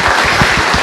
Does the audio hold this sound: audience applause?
yes